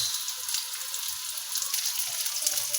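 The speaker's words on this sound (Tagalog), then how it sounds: "Papupulahin lang po natin yung sibuyas." Onions sautéing in a frying pan give a steady, close sizzle with fine crackling throughout, no voices over it.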